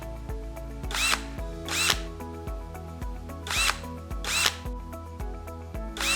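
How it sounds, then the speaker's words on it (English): A power drill bores into a wall in several short bursts, its motor whining up and cutting off repeatedly at close range. "Begin drilling into the wall itself."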